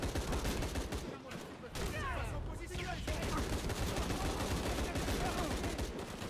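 Sustained gunfire in Shadow of the Tomb Raider, a dense, continuous rattle of shots with a loud, steady level throughout and brief dips, mixed with game effects and a voice.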